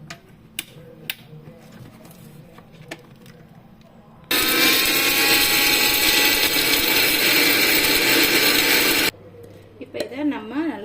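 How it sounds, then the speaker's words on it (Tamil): A mixer grinder pulverises ingredients into fine powder for a chicken dish: a few clicks and taps first, then a loud, steady whirring roar for about five seconds that stops abruptly. "இப்போ இதை ஒரு ஃபைன் பேஸ்ட்டாக அரைக்க போகிறோம்."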